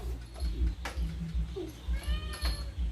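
A plump cat gives a couple of drawn-out meows against a low rumbling background.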